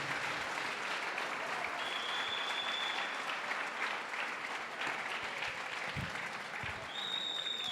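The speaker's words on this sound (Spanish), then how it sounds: "dele una ofrenda de palmas a Jesús" A church congregation at a Pentecostal service in Mexico claps steadily as an offering of praise to Jesus: dense, continuous applause that fills the room at an even level, with no talking over it.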